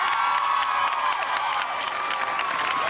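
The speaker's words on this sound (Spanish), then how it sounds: "vamos a darle un aplauso a Cilia" A large crowd at a Carabobo governor's swearing-in ceremony cheers and applauds for Cilia Flores, loud sustained shouting and whooping blended with steady clapping, a dense roar that stays full and even throughout.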